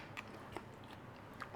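Crunchy onion from a chicken jalfrezi with thick masala sauce being chewed up close, a few soft, irregular bites and crunches spread over a moment of quiet.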